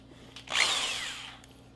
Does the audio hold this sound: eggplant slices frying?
no